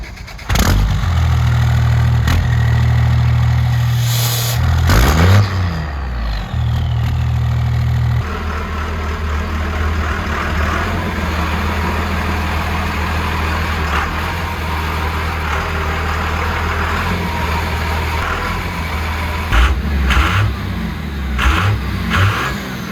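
A truck engine idles with a deep, steady low rumble while it is eased into a garage, the sound swelling briefly with a few revs before settling into an even, close idle.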